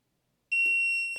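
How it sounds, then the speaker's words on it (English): A Mecpow MP30 tumbler heat press timer sounds a steady high electronic beep tone that starts abruptly and holds for under a second, close and clear, with a brief rustle of handling beneath it. "So you can hear it beep"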